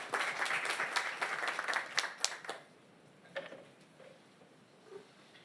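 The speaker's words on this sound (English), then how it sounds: "let's give a big, big round of applause to our panelists" Conference audience clapping for a panel of speakers, a moderate burst of applause that fades after about two and a half seconds, leaving a few scattered claps in a quiet room.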